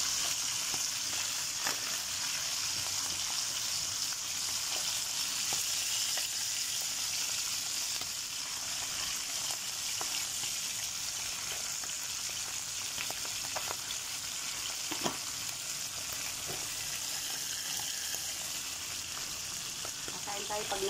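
Dried milkfish, daing na bangus, fries and spatters in hot oil with a continuous moderate sizzle and occasional sharp pops, while someone speaks intermittently over it.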